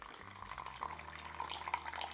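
Rusty steel wool solution poured into a container, a soft steady trickle of liquid with light splashy texture, fairly close and moderately quiet, with no talking.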